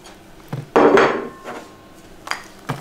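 Frozen fruit, apples, raspberries and strawberries, tumbles into the metal steam juicer insert of a Lidlomix attachment, giving a few close, hard clattering knocks with a louder burst in the middle and quieter taps around it.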